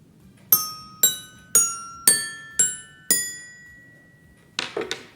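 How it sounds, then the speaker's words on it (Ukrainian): Six bright, ringing metallic notes struck one after another at a steady pace on a toy xylophone, each decaying slowly, followed by a couple of quick softer clinks. "У нас є ксилофон. Послухайте, як чудово він звучить."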